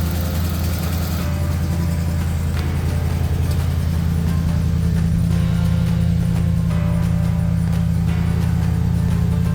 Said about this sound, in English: I tossed a little bit of gas down the carburetor, and this thing fired right up, and then it kept running.